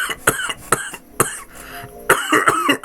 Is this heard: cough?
yes